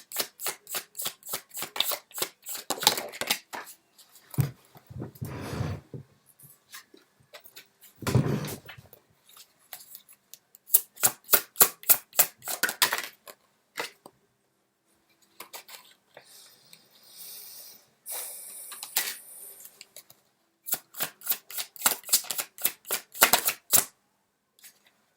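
Tarot cards being shuffled, rapid riffling bursts of crisp card flicks repeating in several rounds with short pauses and softer handling sounds between, close and fairly loud with no talking.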